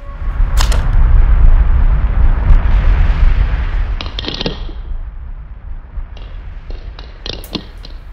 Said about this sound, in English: ping pong ball explosion, a fun toy that you can make on your scroll saw with relative ease